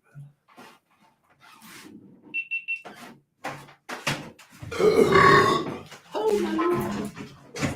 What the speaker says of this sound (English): I wish I could get a burp out like that now